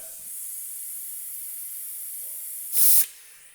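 Air and brake fluid hiss out as the brakes on a BMW race car are bled, a short sharp burst near the end over a steady faint background whine.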